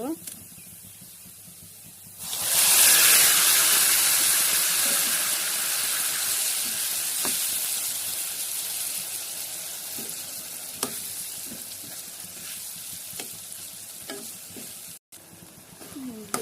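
Papaya pieces hit a hot oiled pan with a sudden loud sizzle, then settle into a steady frying hiss with occasional stirring scrapes and taps.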